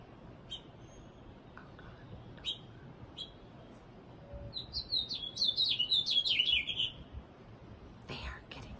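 Small birds chirping on the roof next door, with a few scattered tweets and then a rapid burst of high, bright chirps close by, over a quiet outdoor background.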